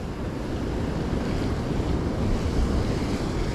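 Ocean waves breaking on a beach beside a jetty during surf fishing, a continuous roaring wash of surf mixed with heavy wind buffeting the microphone, close and steady throughout.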